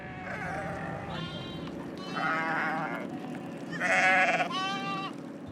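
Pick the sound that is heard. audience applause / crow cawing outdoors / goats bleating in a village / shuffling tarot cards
goats bleating in a village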